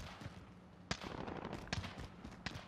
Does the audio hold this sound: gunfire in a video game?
yes